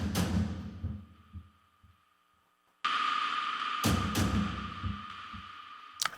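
Sampled cinematic taiko drums thud deep and heavy, joined by a bright, ringing metallic anvil strike that sustains over the drum pattern. A brief near-silent gap comes before the louder combined section.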